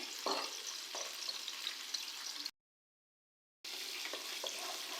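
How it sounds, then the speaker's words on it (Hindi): Garlic sizzles in hot oil in a pan for a Chinese-style chicken karahi, a steady close frying hiss with a few stirring scrapes, broken by a short stretch of total silence partway through. "लहसुन को हम फ्राई करेंगे।"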